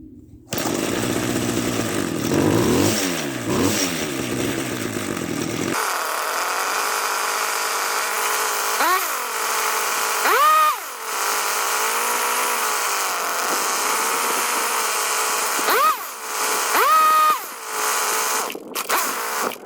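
Old Craftsman two-stroke string trimmer engine running steadily up close while its carburetor is adjusted, a loud continuous buzz with several quick revs and pitch swings throughout, no talk.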